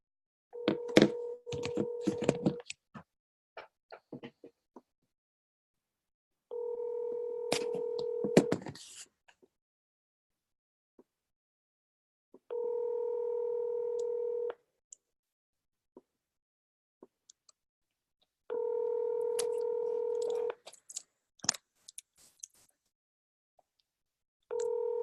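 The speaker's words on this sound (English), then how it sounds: "So I'm dialing the number now." A telephone call being placed plays steady electronic tones in long, evenly spaced bursts, about four in all, with sharp clicks and taps scattered between them.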